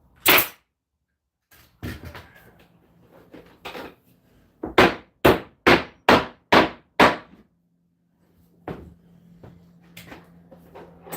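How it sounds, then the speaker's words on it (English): Nails hammered into plywood, a quick run of six or seven evenly spaced loud, close hammer blows after a few scattered single strikes, with quiet pauses and some light handling noise between. "And nailing all the ones that missed."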